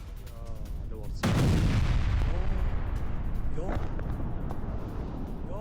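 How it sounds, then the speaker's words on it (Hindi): Artillery bombardment in Idlib, Syria, heard as a continuous roar of heavy blasts and rumbling that swells suddenly after a quieter start and stays loud throughout, without clear separate booms. "इदलिब में विद्रोहियों ने की बमबारी"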